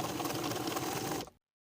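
A sewing machine runs a quick continuous burst of rapid stitching while basting the neck edges of a sweater's facing and bodice, close and clear, then stops abruptly.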